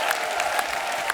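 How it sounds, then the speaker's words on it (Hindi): An audience claps loudly for film stars Sunny Deol and Ameesha Patel at a film promotion event, producing a dense, continuous burst of applause that lasts only about a second. "एक बार जोरदार तालियां हो जाए सन्नी पाजी और अमीषा के लिए।"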